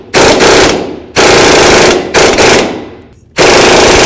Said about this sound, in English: Now let's start driving it in.